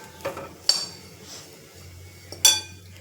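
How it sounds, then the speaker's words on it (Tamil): Roasted coconut tipped from a pan onto a plate, heard as a few sharp clinks and scraping clatters of utensil against dishware, fairly close, with quiet gaps between. "இதை எடுத்து அந்த தட்டில் கொட்டிக்கலாம்"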